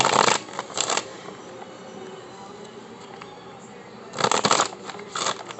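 Two quick bursts of playing cards being riffle-shuffled close by, separated by a few seconds of quiet room noise.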